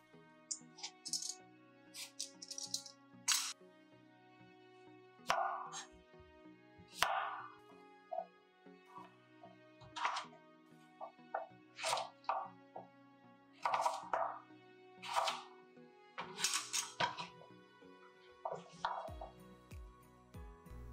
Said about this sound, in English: Peel the bad skin and cut in irregular cubes.